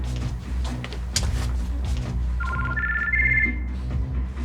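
A telephone rings in a dramatic scene: a short series of bright electronic ring tones rises in pitch midway through, clear and close over a low background hum.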